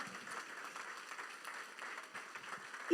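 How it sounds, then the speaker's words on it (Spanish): A church congregation applauding for the Lord during a Spanish-language sermon, a steady, fairly faint wash of clapping that holds evenly for the whole stretch. "Dale ese aplauso fuerte al Señor"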